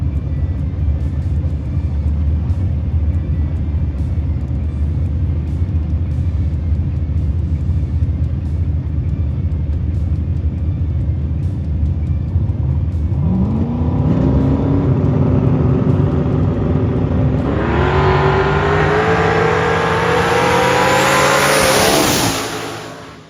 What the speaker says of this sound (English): Boy, that was a drag race.